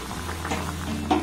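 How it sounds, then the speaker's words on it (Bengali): Palm fritters simmering in boiling sugar syrup, a soft steady bubbling with gentle pops, low and continuous at close range. "এই বড়াগুলো রসের মধ্যে দেওয়ার পর এটাকে আমি আরো 2-3 মিনিট একটু হালকা করে ফুটিয়ে"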